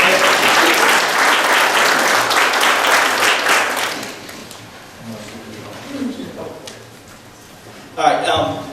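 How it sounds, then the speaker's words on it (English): Loud, dense applause from an audience at a Board of Education Post 1 candidate event fills the first few seconds, then fades to scattered claps and room noise, with a short burst near the end. "Please, you can clap."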